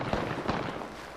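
A single frag grenade blast in a video game battle, a short muffled pop followed by a second burst, fairly faint and distant.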